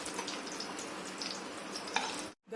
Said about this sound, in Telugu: దొండకాయ వేయించుకున్నామండి.